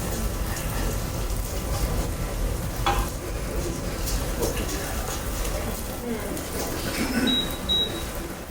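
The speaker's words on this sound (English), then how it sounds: "I'll toast it, put in some oil" A steady sizzle of rice toasting in hot oil in a pan, with light stirring and a few scraping clicks in a quiet kitchen.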